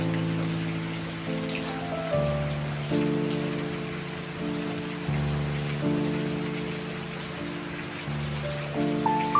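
Steady rain during a storm in central Vietnam, a continuous wash of drops on surfaces, with a low musical tone shifting underneath throughout.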